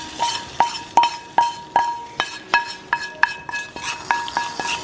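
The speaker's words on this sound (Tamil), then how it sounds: "இப்போ நம்ம தாளிப்பு இருக்குல்ல, அதை ஃபுல்லாக நம்ம பருப்பில் ஊற்றிடலாம்" Steel spoon stirring and clinking against a pot as tempering seasoning is poured into moong dal, a steady series of bright metallic taps, close and alone.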